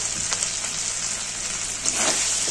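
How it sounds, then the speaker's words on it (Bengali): Cumin, turmeric and Kashmiri chili powders frying in oil in a pan for Bengali chana dal: a loud, continuous sizzle with a few stirring scrapes, swelling slightly toward the end. "মশলাটাকে ভালো করে কষিয়ে নেব"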